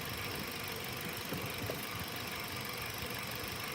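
A 2008 Ford Focus engine idles rough and shaky with one fuel injector disconnected, a steady low mechanical rumble with uneven knocking pulses throughout, close and continuous.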